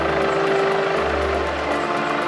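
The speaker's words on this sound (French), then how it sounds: "Dans le ciel, un hélicoptère patrouille." A helicopter patrols overhead at night above a suburb of Lille during a firefighting operation, giving a steady, droning rotor hum that holds evenly for the whole moment.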